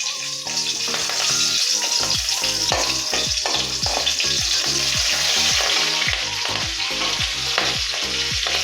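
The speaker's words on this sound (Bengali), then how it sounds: "কড়াইতে আরও একটু তেল দিলাম। চেরা কাঁচা লঙ্কা দিয়ে দিলাম।" Slit green chillies frying in oil in a wok for a mustard eggplant hilsa curry, a loud continuous sizzle with rhythmic stirring and scraping strokes throughout, close and without talk.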